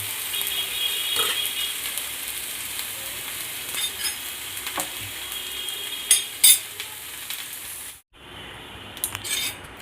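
Steady frying sizzle in a kadai with occasional clinks and scrapes of a utensil, continuous for about eight seconds before cutting to near silence, then a few faint clicks.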